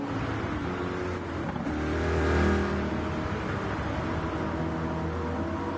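A race car engine in an online league race in a racing video game drones steadily and loudly throughout, swelling briefly as it accelerates past, with no talk over it.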